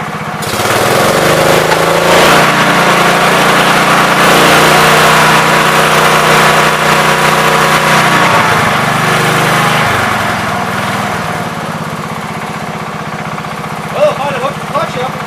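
A John Deere 110 lawn tractor engine idles steadily and close by after a carburetor adjustment, a continuous small-engine drone that eases slightly lower in level partway through, with brief speech over it.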